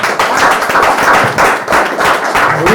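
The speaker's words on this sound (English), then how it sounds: "Give it a round of applause." An audience at a poetry event claps steadily in a dense burst of applause, loud and close, with the clapping swelling and dipping slightly over a few seconds.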